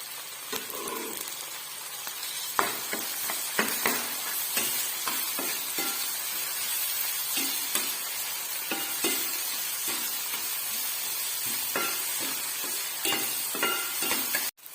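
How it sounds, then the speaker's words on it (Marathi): Tomato tossed into golden fried onions for a restaurant-style chicken biryani fries in a pan, a continuous soft sizzle punctuated by repeated scraping knocks of a spoon stirring, fairly quiet and close, with no voices. "कांदा तळून झाल्यानंतर त्यामध्ये टोमॅटो घालायचा"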